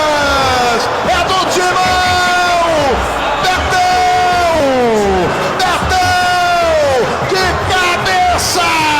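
A large crowd of Corinthians supporters in a stadium roars and yells after a headed goal, with loud sustained chanting and rising, falling whoops that come in repeated surges, all close and dense.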